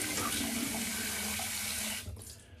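Hot water runs steadily from a tap into a sink during a wet shave with a safety razor, a close, continuous splashing rush that cuts off and fades out near the end.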